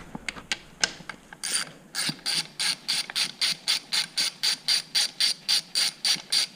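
A hand ratchet loosens the oil drain screw behind the shield of a 2020 Honda CRF250F, giving a close, steady run of evenly spaced clicking strokes that speed into a regular rhythm.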